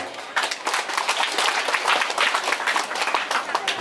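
A crowd applauds at a memorial gathering in a village, dense steady clapping that fills the space without a break.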